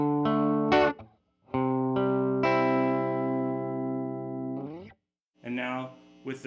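Clean electric guitar through a tweed amp, with tone at 7 and volume at 5: sustained chords and short plucked notes with bright ringing harmonics, separated by brief gaps and a few muted strums, played alone.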